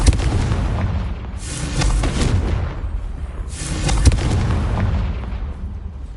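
A Confringo fire-blast spell from Hogwarts Legacy erupts in two loud, roaring bursts about two seconds apart, each with a booming low rumble that lingers and fades before the next.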